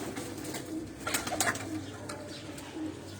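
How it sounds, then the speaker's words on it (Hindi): Sialkoti pigeons on a rooftop coo softly in a few short, rounded calls close by, over faint background noise. "ये अब दोस्तों कुछ कबूतर नीचे आए हैं"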